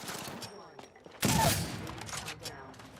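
Gunfire in the video game Apex Legends, with a burst of rapid shots erupting loudly mid-clip amid ongoing game sound effects and spoken in-game callouts.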